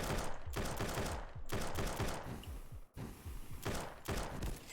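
Video game gunfire rattles in dense automatic bursts, loud and close, with brief gaps between volleys during a frantic multiplayer match.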